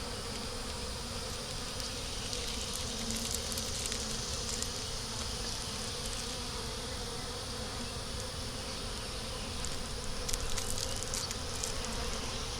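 A small honey bee swarm hums inside a hive as a dense, continuous buzz that holds steady and fairly faint throughout, with no voices over it.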